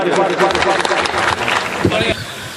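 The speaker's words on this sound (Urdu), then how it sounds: "زوردار تالیوں سے استقبال کیجیے۔" Audience at a mushaira breaks into brief applause to welcome a poet, clapping and crowd noise mixed with voices, fairly loud and close throughout.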